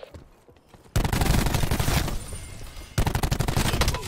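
Loud automatic gunfire from the Gunship video game, near and dense: a quiet lead-in, then a sustained burst of rapid shots, a brief dip, and another rattling burst at the end.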